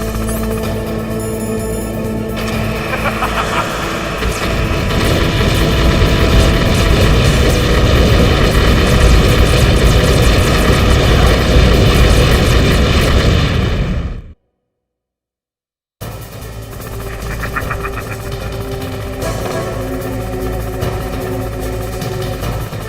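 Hind D helicopter in Metal Gear Solid, a loud continuous rotor and engine roar with rushing wind that cuts out abruptly to brief silence, then resumes at similar strength.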